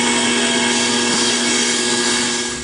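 A wood lathe spins a cocobolo pen blank down toward its bushings while a skew chisel cuts, giving a loud, steady whirring drone with a constant hum running through it.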